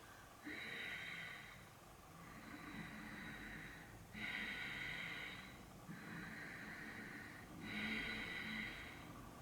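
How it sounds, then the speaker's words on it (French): Ujjayi yoga breathing through a narrowed glottis, a soft hissing, muffled breath repeated in about five slow cycles of inhale and exhale, close and steady with no talk. "on resserre en fait la glotte, l'air a plus de mal à passer et donc il y a une espèce de son sourd qui vient se diffuser"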